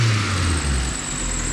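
A car on new 1000cc fuel injectors, part of a budget AWD build, runs steadily with a low, sustained engine drone and a high whine on top, loud and close, with no talk.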